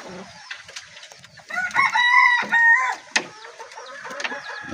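A wild-caught red junglefowl (labuyo) rooster crows loudly and close, one drawn-out call rising and falling, with scattered clucks and rustling before and after.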